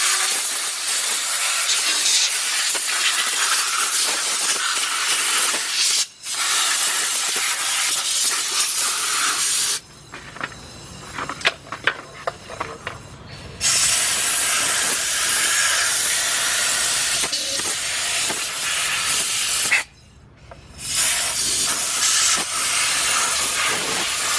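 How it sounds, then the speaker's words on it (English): An air chuck blows compressed air over a 2003 Nissan Maxima 3.5 engine part to dry it. The loud, close hissing blasts come in long bursts with brief gaps between them. "get your little air chuck, get up. Just gonna go around it and make sure you dry it out"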